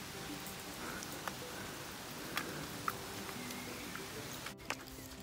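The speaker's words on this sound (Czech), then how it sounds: "Za mě úplně prší." Rain patters lightly and steadily outdoors on a meadow walk with dogs, soft constant hiss punctuated by a few faint ticks of drops, with no talking.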